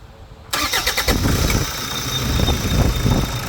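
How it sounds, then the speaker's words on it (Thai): Toyota Fortuner diesel engine cranks and fires after a short silence, then settles into a loud, steady rough idle close by, with a belt slipping at start-up. "เวลาสตาร์ทปุ๊บ สายพานกระโดดเลื่อนมา"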